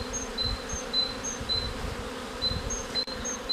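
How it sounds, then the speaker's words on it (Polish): Honeybees buzz around a hive in a steady, close hum with a few louder passes of single bees drifting by. "Dzisiaj pszczoły."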